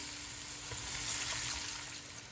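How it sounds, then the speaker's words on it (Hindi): Rice and chicken sautéing in a pot for kabsa, a steady close sizzle that swells slightly in the middle, with no talking. "इसको हम थोड़ा सा सौते करेंगे"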